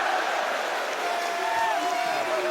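A crowd at an esports event roars and cheers in a dense, sustained wash of voices, loud and close throughout.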